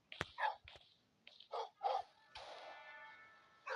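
A dog in the video game Schoolboy Runaway gives a few short, quiet barks in quick succession, followed by a longer sustained tone, with no talk.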